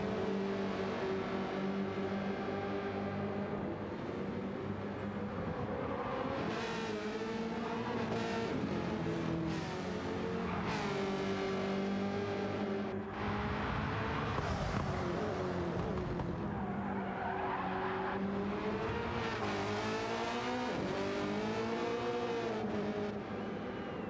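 V8 Supercars racing around Road Atlanta in a sim racing game, engines revving and rising and falling in pitch over a long stretch, loud and continuous with repeated gear changes.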